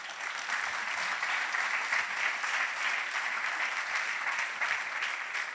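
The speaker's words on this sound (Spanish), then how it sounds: "dale un fuerte aplauso al Señor" A church congregation applauds during a sermon, an even, sustained wash of many hands clapping at moderate distance with no talk over it.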